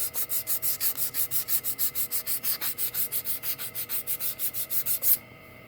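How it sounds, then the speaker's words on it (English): Rhythmic rubbing of sandpaper over a wood carving, about twenty even back-and-forth strokes in quick succession, close and fairly quiet, stopping abruptly at the end. "let that dry a bit, and then let's go over some sandpaper."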